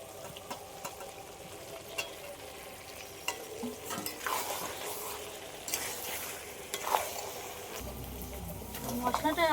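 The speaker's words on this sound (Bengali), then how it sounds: "আলু একটু হালকা করে ভেজে নিয়েছিলাম এই আলুটাই আমি দিয়ে দেবো" Lightly fried potatoes go into mutton that has been browning in a pan, giving a steady sizzle with stirring scrapes and clatter and a louder burst near the end.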